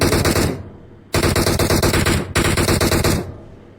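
Loud, close automatic weapon fire in the mobile battle royale game PUBG Mobile comes in three rapid bursts separated by short pauses.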